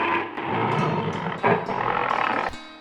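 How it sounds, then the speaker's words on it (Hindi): A lion gives a loud, close roar in a long sustained burst, with a short break and a second surge before it cuts off abruptly; no talking. "शेर ने जोर से आवाज लगा"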